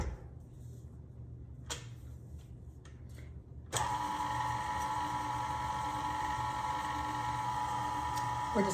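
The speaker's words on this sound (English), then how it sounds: "We're just creaming the sugar and the butter together until it just becomes creamy." An electric mixer creams sugar with melted butter, a few clatters first, then the motor starts abruptly and whirs loud and steady with a constant whine.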